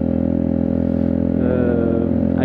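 Motorcycle ridden at modest speed with a steady, loud engine drone, a constant hum of low harmonics holding even throughout.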